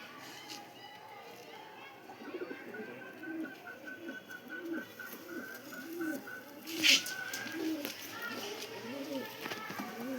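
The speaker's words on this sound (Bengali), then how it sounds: "গোল্ডেন পায়রা প্রচুর উড়ে" Golden pigeons on a loft stand coo in a steady, repeating low rhythm, close by, with faint background voices and activity throughout.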